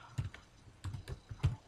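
Several quiet clusters of computer keyboard keystrokes as a number is entered into a spreadsheet cell, short taps in small bursts with pauses between, close and alone with no voices.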